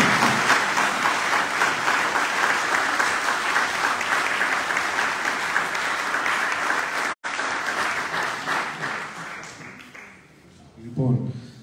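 Sustained, dense applause fills a hall at a local election campaign event in Chios, loud and steady, with a brief dropout before it tapers off into a few scattered claps at the end.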